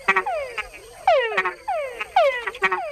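Male frogs in Panama give mating calls with an added chuck, a repeated series of loud, close croaking calls in quick bursts that come roughly every half second to a second, with no other sounds.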